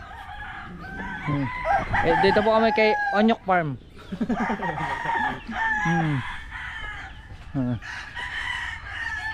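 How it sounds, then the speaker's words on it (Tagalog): Chickens on a farm cluck and a rooster crows repeatedly at close range, loud and overlapping, while a person talks over them. "Ayan may manok dito."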